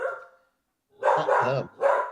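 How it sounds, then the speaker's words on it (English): A dog barks nearby in a few short, loud bursts: one bark, a pause, then a cluster of barks and a final one, heard indoors during a home-recorded live talk show. "Your dog is chiming right in here."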